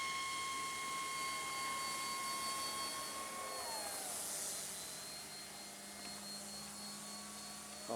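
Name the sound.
RC Tower Hobbies Beaver floatplane engine at 60% throttle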